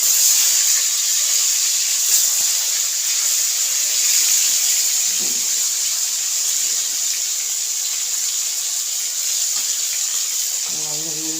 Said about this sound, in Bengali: এগুলো ভেজে নেবো মাছগুলো